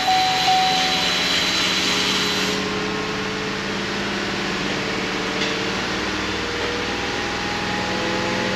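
A misfiring Cadillac Northstar engine runs steadily under throttle, a loud, dense, continuous drone that holds without pause through the whole stretch.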